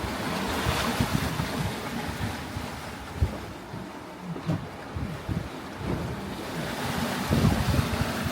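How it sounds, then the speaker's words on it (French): Atlantic waves washing around a sailboat during an ocean crossing from Cape Verde to Martinique, with irregular surges and splashes over constant wind buffeting the microphone, no voices. "On regarde les vagues et on attend de se faire mouiller les pieds."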